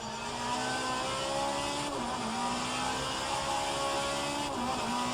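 Alfa Romeo 155Ti race car engine at Bathurst in a racing game, a loud steady high drone with two brief dips as it shifts gears, running continuously throughout.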